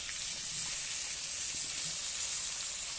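Potatoes frying in hot oil for an egg curry, a steady, dense hiss of sizzling that holds evenly throughout, close and moderately quiet with no voices.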